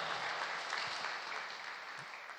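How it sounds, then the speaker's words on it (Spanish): A crowd applauds Venezuelan soldiers at a government event for the start of the school year, sustained dense clapping that fades slightly toward the end, with no voices over it. "un aplauso bien fuerte para los soldados de Venezuela"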